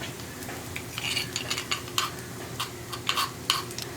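Crushed pepper, fennel and curry leaf masala tipped into beef fry in a pan, heard as soft scrapes and clinks of a spoon against the vessel over a steady low sizzle, with no voices.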